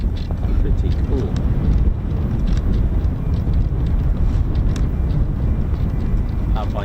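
A Boeing 757 powered by two Rolls-Royce RB211-535E4 engines rumbles in a steady low roar at an air show, with people talking over the engine noise throughout.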